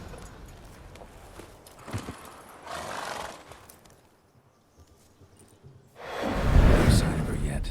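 Roach, a horse in The Witcher 3 video game, is reined in, hooves clip-clopping faintly early on, then a loud close neigh bursts out near the end over a quiet background.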